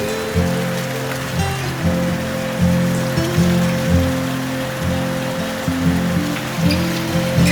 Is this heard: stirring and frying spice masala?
no